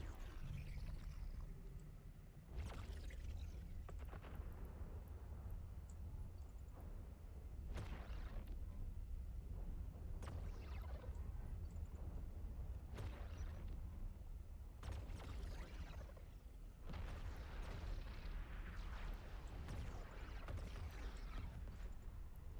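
Ship weapons fire repeatedly in EVE Online, a Thrasher destroyer in a combat exploration site, with about eight sharp bursts at irregular intervals over a steady low engine rumble and no talk.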